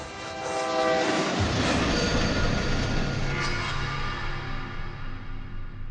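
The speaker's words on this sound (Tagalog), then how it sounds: "Tren." A train passes in the video game The Secret Elevator Remastered: a loud, heavy rumble swells in after a quiet start and holds steady with sustained horn-like tones, then eases slightly toward the end.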